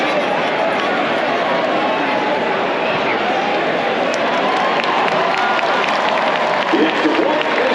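A stadium crowd at a Jaguars versus 49ers football game roars and cheers continuously, a dense, loud wash of voices and clapping that never lets up.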